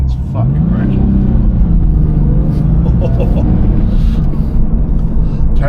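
Stock exhaust of a 1999 Porsche 996 Carrera 4 with 22,000 miles, a steady close engine drone under continuous talk.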